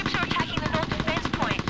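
Rapid heavy machine gun fire in the video game Mercenaries: Playground of Destruction, a dense stream of close, steady shots mixed with in-game voices and battle noise.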